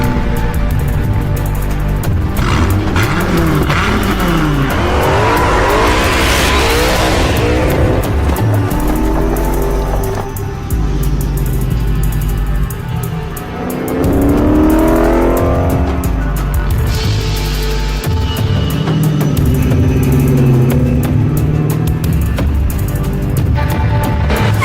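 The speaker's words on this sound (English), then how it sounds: "Dodge Viper, created like no other car in the world." A Dodge Viper sports car roars loudly as its engine revs and accelerates in repeated rising sweeps, with brief dips between pulls, heard up close and alone without voices.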